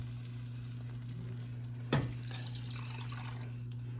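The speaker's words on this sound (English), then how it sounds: "I'm scraping up the bottom" French onion chicken casserole sizzling steadily in a pot while a spoon scrapes the bottom, with a single sharp scrape or clank near the middle over the constant frying hiss.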